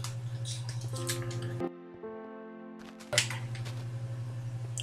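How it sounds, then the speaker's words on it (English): Splashing water in Minecraft on Xbox, soft squishy wet bursts that stop and start over a steady low hum, with a clean tonal stretch in the middle and no voices. "That's some nice water."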